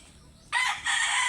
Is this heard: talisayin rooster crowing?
yes